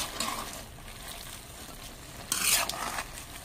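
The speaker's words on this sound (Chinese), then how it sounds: "再翻一下，再稍微炒个几分钟嘛。" Crayfish and garlic being stir-fried in a wok: a close, steady sizzle with scraping stirs, and a louder hiss and clatter as the contents are turned, with no talking.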